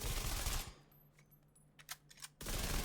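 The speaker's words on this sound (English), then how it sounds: "it's hard to kill from this distance with an SMG" A submachine gun fires in The Division 2 at long range, with a fast burst at the start and another at the end. Fainter clicks and hit sounds fill the quieter stretch between them.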